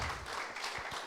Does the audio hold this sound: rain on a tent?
no